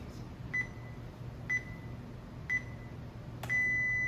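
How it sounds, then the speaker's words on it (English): Three short, evenly spaced electronic beeps a second apart, then a longer, louder tone, over a low steady hum. "it'll the fourth beep, starting the countdown in 3 seconds"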